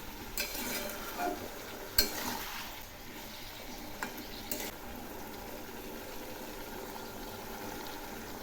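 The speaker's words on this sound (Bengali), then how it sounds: "আবার একটু নেড়ে দিচ্ছি।" Rui fish and broccoli curry stirred in a pan, a soft scraping and bubbling with a few louder clinks of the spoon against the pan, fairly quiet and close, no one talking.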